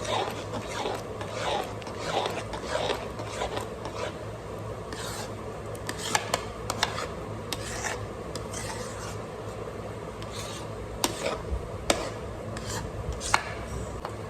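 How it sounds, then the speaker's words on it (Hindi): Cream churned by hand with a whisk to make homemade desi butter produces a steady scraping, sloshing rub against the pot, continuous and close, with occasional sharper clicks of the whisk. "इसी तरह फेंट फेंट कर मैंने मक्खन निकाल दिया"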